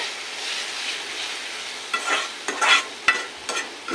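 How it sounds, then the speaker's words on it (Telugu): Masala fries in oil for a kurma, a soft steady sizzle with a few sharper stirring scrapes and clatters near the end. "ఇది కూడా నూనెలో బాగా ఫ్రై కావాలి చూడండి ఫ్రెండ్స్."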